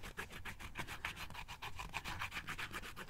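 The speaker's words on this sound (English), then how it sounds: "I just started scratching the picture off." A picture is scratched off a magazine sheet with quick, rhythmic rubbing and scraping strokes. The sound is faint, close and continuous, with no voices.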